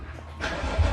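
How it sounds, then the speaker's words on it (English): A BMW F30 car's engine cranks and catches partway through, a low rumbling idle building up and settling at close range, with no talking over it. "Let's turn the car on."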